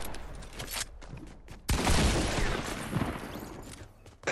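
Video game gunfire rattles in short bursts, then a louder, denser volley erupts and continues at close range, with no talking.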